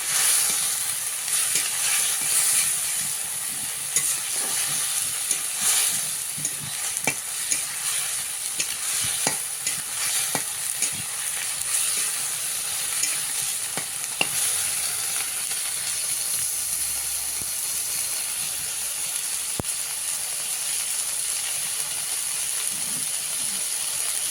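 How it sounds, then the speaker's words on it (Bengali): Chillies sizzle steadily in a hot pan with an even frying hiss, broken by scraping stirs and clinks of a spatula against the metal, close and continuous with no talking. "লঙ্কাটা একটু ভেজে নিচ্ছি"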